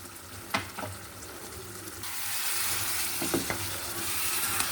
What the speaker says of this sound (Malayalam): നല്ല തിളക്കുന്നുണ്ട്. ഇതിന് മുകളിലേക്ക് ഇവിടെ കുറച്ച് മല്ലിയിലുള്ളൂ, അതിട്ട് കൊടുത്തിട്ടുണ്ട്. മൂടി വെച്ചിട്ട് നമുക്ക് വേവിക്കാം.